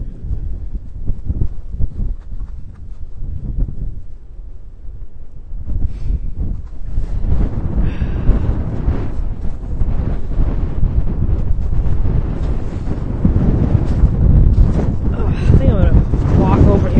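Strong gusts buffet the microphone on a snowy Rhode Island beach after a snowstorm, a loud, continuous roar that swells and grows rougher toward the end, with no clear speech.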